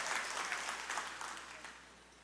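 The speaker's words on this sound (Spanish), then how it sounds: "Podemos darle un fuerte aplauso al Señor" Quiet applause from a church congregation, soft steady clapping lasting about two seconds at a distance and gradually thinning out.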